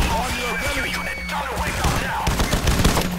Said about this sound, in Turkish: o kadar mermi basıyorum